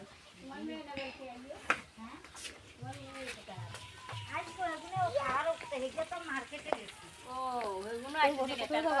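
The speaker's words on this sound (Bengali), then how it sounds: "রান্না হচ্ছে রুই মাছের" Rohu fish fries for a jhol at home, its soft, continuous sizzle running beneath close conversation that dominates throughout.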